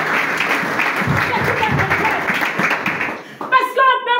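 A church congregation applauding for Jesus, a sustained crowd clap that dips briefly before a voice rises over it near the end.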